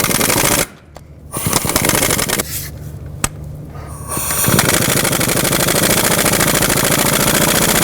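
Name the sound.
12mm socket with extension removing exhaust manifold nut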